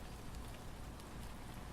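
Rain falls steadily in the video game Dreams, Paradise 2, a dense, even patter of drops on surfaces with no speech.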